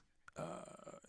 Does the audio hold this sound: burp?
yes